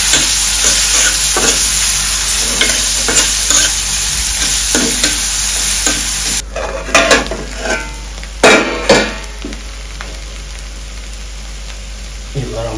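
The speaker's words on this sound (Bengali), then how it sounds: "তো বাগারও দেওয়া শেষ, এবার খুব ভালো করে নেড়ে দিতে হবে।" Onion, desi garlic and dried chillies fry in a hot pan for a moringa-leaf dish, a steady sizzle running throughout while a utensil scrapes and stirs in irregular bursts, with louder clanks near the end.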